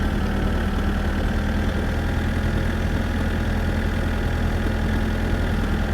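A tractor engine in the My Summer Car video game drones steadily in a continuous low, rough rumble.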